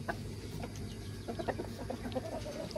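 Chickens clucking around a coop yard, several soft irregular clucks and short calls over a steady low background hum, moderately close.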